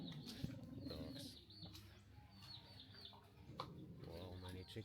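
Many chickens clucking in a rural spot near the Hue tombs in Vietnam, a busy mix of clucks and coos over background noise, with people talking nearby.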